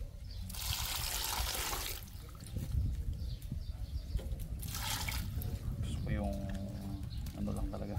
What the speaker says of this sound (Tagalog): Kasi maglalagay tayo ng tubig.